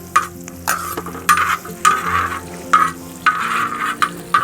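Whole garlic cloves fry in melted butter in a hot pan, a bright sizzle that swells in regular bursts as the pan is stirred or shaken about every half second, close and loud with no talking.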